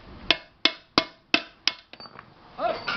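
A hammer taps on the rivet of a pressure cooker: five sharp metallic strikes at an even pace, then lighter clinks and a short rattle, close by and loud.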